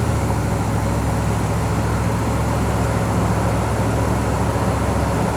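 A 1969 Corvette coupe in Monaco Orange, carbureted, cruising smoothly at about 40 mph on an open road, giving a steady, loud drone of engine hum, tire rumble and wind noise that holds constant throughout, with no voices.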